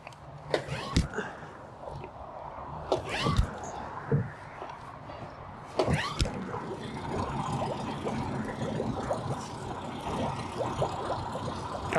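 A secondhand outboard boat motor bought online idles in neutral, a low, steady rumble beneath a few sharp knocks and handling noises, with people talking nearby.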